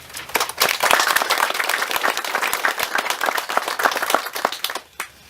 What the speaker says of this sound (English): Please thank these veterans with your applause.